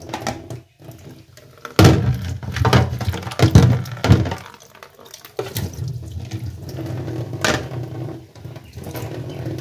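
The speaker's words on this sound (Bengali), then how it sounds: "এটাকে একটু ধুয়ে নিই।" A new plastic tiffin box is rinsed under a running kitchen tap, water splashing and drumming into the sink with a few hollow knocks and clunks as the box is handled, close and alone without speech.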